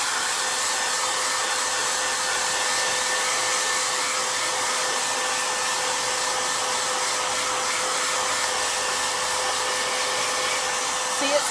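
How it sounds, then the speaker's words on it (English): A hair dryer runs continuously at close range over furniture freshly coated in milk paint, a loud, steady whirring blow that holds level for about eleven seconds without pause. "so let's get our hairdryer. Sorry for the sound."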